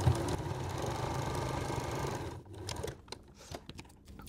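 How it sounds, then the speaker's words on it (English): A sewing machine top stitches a seam in white thread on a small oven mitt, running as a steady close mechanical whir for about two seconds, then slowing into a few separate stitch pulses. "we're just going to top stitch along that seam."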